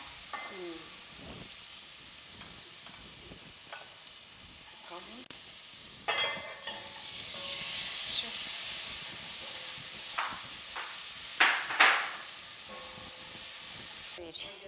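Pork meat frying in a pan: quiet sizzling at first, then a louder burst as the meat goes in around six seconds, with hissing, stirring scrapes and sharp spatters, and occasional voices in the background.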